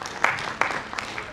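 An audience at a theatre festival opening in Bhopal claps for an honoured guest, a steady patter of applause with a few sharper claps standing out, under a faint voice.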